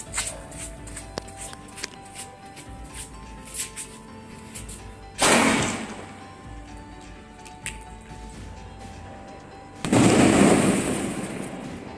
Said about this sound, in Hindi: यह है दूसरा शेल, चलिए गाइस इसमें भी लगाते हैं आग और देखते हैं ये कुछ अलग डिस्प्ले करता है या सेम रहता है